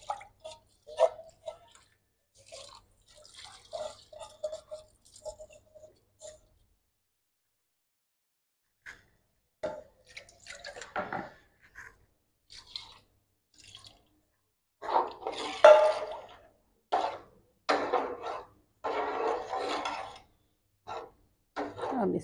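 Cleaned rice goes into a pot of water for a village meal cooked for a crowd. Soft, scattered splashes and drips come in uneven bursts, quiet and close, with silences between them.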